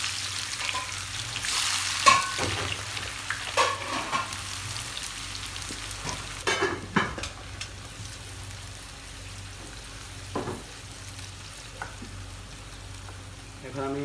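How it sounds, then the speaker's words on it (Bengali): Finely chopped onions, seven medium ones, stir in hot oil in a pan, giving a soft steady sizzle with intermittent scraping stir strokes, fairly close and moderate in level, with no talk. "এখন আমি পেঁয়াজটাকে একটু তেলের উপরে ভালো করে পিছিয়ে দেব।"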